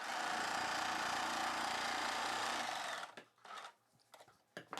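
A sewing machine stitches an extra piece onto a cross-cut blouse, running in a steady loud whir for about three seconds, then stopping and giving way to a few short, quiet bursts of stitching.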